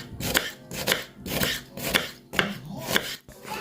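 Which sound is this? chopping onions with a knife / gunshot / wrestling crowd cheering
chopping onions with a knife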